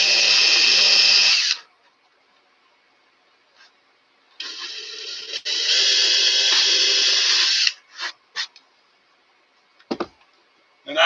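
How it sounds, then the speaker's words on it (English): A power drill bores at a slight angle into a front piece of a woodworking build, in two loud sustained whirring bursts separated by a pause, followed by short clicks and brief handling noises. "instead of drilling straight in, I'm drilling at a slight angle to kind of match the angle of this front piece here"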